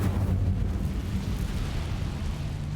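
The Incendio fire spell is cast in Hogwarts Legacy, a dense, sustained whooshing roar of flames that stays loud and even for nearly three seconds.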